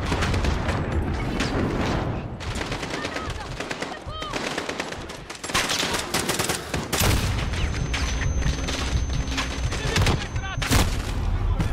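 Gunfire in Call of Duty Modern Warfare 2019 on realistic difficulty, dense machine-gun bursts and rapid rifle shots with booming impacts, loud and nearly continuous for the whole stretch.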